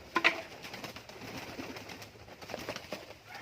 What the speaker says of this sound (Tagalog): Ang dami mo palang kalapati.